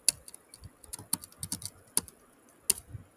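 Typing at a computer keyboard while working in a PowerShell terminal: quick, irregular clicky keystrokes with brief pauses, close and fairly quiet, no talking.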